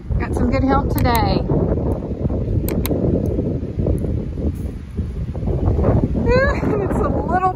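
Gusty wind buffets the microphone outdoors on a farm during spring cleaning, a steady low rumble that stays loud throughout, with a person talking over it at the start and again near the end.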